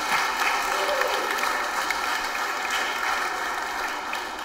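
An audience at a live debate on God's existence, with debater Eric Hernandez facing it, produces a steady wash of crowd noise and booing, loud and continuous throughout without distinct breaks.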